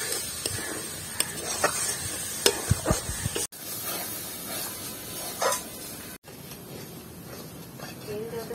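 Tomato paste goes into a sizzling Dhaba-style paneer masala with kasuri methi, giving a steady frying hiss with stirring scrapes and a few sharp clinks, broken by two brief cuts.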